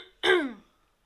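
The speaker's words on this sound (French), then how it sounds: "J'allume la caméra, je vous tousse dessus." A single short throat-clearing cough made close to the camera, one abrupt burst that fades within half a second, followed by quiet.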